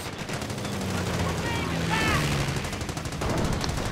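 Rapid, dense gunfire and machine-gun bursts with booming artillery as Germans attack a base in the Company of Heroes video game, a continuous loud battle texture with brief in-game radio chatter over it.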